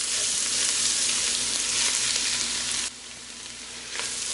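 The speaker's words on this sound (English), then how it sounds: "get the tomato paste to brown up slightly" Tomato paste and vegetables browning in a hot pan give off a loud, steady sizzle with light stirring. The frying drops off sharply partway through and then carries on more quietly.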